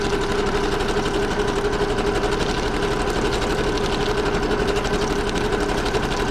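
Sewing machine stitching a decorative pattern through paper, a steady, fast mechanical whirring hum with rapid needle clatter, running continuously and close with no talking.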